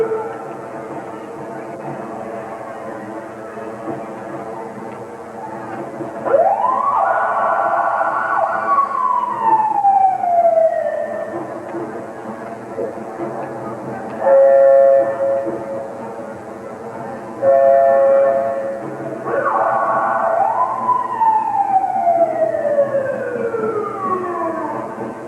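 Loud fire truck sirens at a 1993 Christmas parade in Waynesburg, Pennsylvania, wail repeatedly, rising and falling in long sweeping cycles with short blasts between, close by over a steady background rumble.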